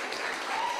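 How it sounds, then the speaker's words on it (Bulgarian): An audience applauds after a beauty and aesthetics stage show, a brief burst of dense clapping that is fairly loud and close, with faint voices mixed in. "Бурни аплодисменти, дами и господа, за това страхотно шоу, което видяхте току-що."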